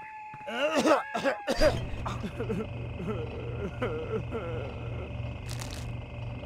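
A ghost clown in The Sims 1 coughs in a few sharp, close bursts, then a low engine-like hum and faint game sounds continue with a voice talking over them.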